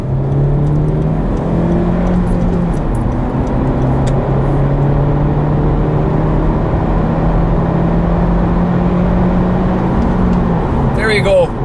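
A Honda Civic 1.5 VTEC Turbo petrol engine drones and whirs steadily under acceleration with road and tyre noise, heard from inside the cabin while someone talks over it continuously.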